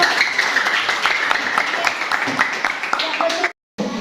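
Applause from an audience at an education coaching session, a steady patter of clapping mixed with voices that ends abruptly near the close.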